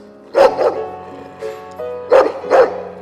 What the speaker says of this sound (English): the grounds are patrolled by vicious dogs